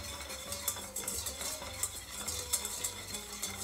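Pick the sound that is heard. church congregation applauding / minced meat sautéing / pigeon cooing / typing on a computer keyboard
minced meat sautéing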